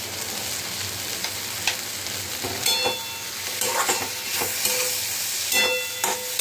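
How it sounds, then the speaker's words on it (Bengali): Chickpeas, pea lentils and potatoes sauté in a pan, a steady oily sizzle broken by the scrape and clatter of a spoon stirring, close and fairly loud with no voices. "মোটামুটি আমার সাতলানো কিন্তু হয়ে গেছে।"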